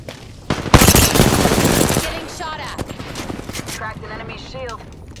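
Apex Legends gunfire erupts in a loud, dense automatic burst lasting over a second, then fades to scattered shots and clicks while a voice speaks.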